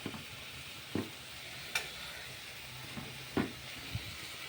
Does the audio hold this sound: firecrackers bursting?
no